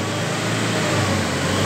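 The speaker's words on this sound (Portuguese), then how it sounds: "Esse é o barulho da eletromagnética." Electromagnetic retarder engaged on an Iveco 35S14 Euro 3 van with a fault, giving a steady broadband whirring hum with a strong low drone, loud and constant throughout with no talk.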